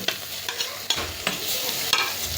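Chicken liver sizzles in a pan with onions while a spoon stirs it, a steady loud frying hiss broken by several close scraping strokes, with no voices.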